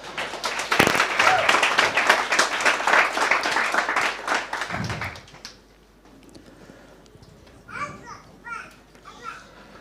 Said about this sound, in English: round of applause for Bukaba Holdings.